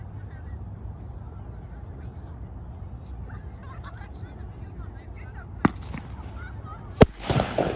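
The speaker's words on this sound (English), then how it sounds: "There are more fireworks." Two separate firework bangs ring out at a Victoria Day show in a North York park, far apart and fairly distant, over a steady murmur of crowd and voices.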